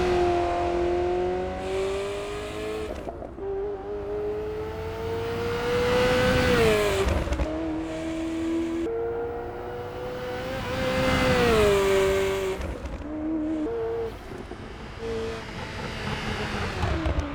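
A classic supercar engine in the racing game Assetto Corsa EVO revs continuously, its pitch climbing and falling through on- and off-throttle changes and gear shifts, loud and close with no talk.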